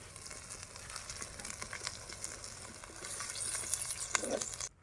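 Ginger garlic paste sizzles and fries in a pan, with occasional stirring scrapes and crackles building louder toward the end, no voices.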